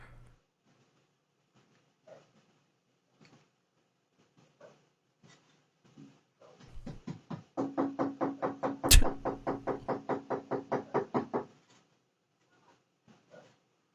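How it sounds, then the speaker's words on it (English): Firm, evenly spaced knocking on a door during a police deputy's visit, a run of about a dozen heavy raps after a few scattered lighter taps, close and loud with no talk. "he literally knocks like a cop."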